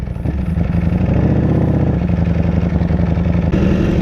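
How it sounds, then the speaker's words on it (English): A Ducati Panigale V4 motorcycle engine idles loudly up close, a deep, even, throbbing rumble that holds steady throughout with a slight shift near the end. "the sound is amazing. It's very distinct V4 sound."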